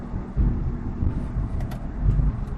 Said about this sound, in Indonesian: Kemungkinan besar ini adalah suara bearing.